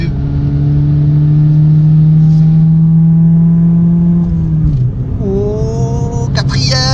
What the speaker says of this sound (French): je vais mettre un pied au plancher là mon vieux